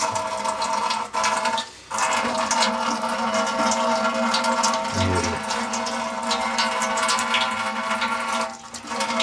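Water runs steadily from a tap while fresh coriander is washed in a home kitchen before cooking turnip and meat, a continuous close splashing rush with a couple of brief dips.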